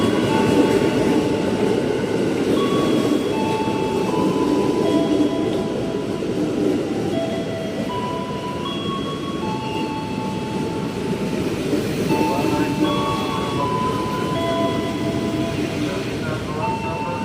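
A KRL Commuter Line train rumbles close by at Batu Ceper station with steady wheel and motor noise and faint tonal whines, while people's voices murmur around it.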